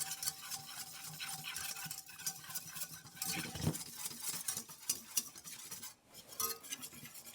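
A whisk beats dried mustard powder into a flour and fat roux in a pan, giving rapid, fairly quiet metallic ticking and scraping over a soft sizzle, steady and close.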